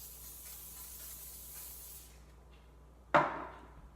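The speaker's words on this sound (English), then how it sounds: "Coconut oil, you can use any kind of oil spray you want. I just generously spray the pan." Coconut oil cooking spray hisses in a steady burst onto a pan for about two seconds, followed by a sharp clack from handling the can or pan nearby.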